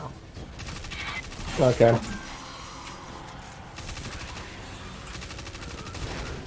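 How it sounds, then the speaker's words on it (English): In the video game Destiny 2, a submachine gun fires one short, rapid burst that stands out briefly over quiet background game sound, with a brief spoken word. "Man, submachine guns are so fun."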